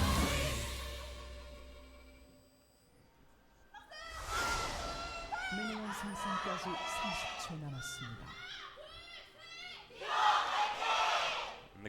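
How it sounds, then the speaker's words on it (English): Crowd at a League of Legends match between the ROX Tigers and SK telecom T1 erupting into loud shouting and cheering that swells and surges, with excited voices prominent throughout. "And the crowd explodes."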